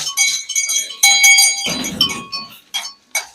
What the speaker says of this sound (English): So these bells, I say this all the time